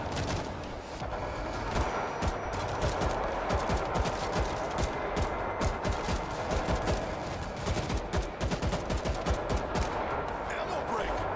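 Dense, continuous automatic gunfire from a World War Z zombie shooter game, with rapid overlapping bursts that fill the whole stretch and no pauses, with voices mixed underneath.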